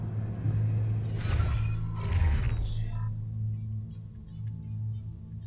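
A magnetic storm in The Alters video game rumbles as a steady low drone, swelling into a loud crackling burst of noise before settling back into the hum beneath faint, scattered high chirps.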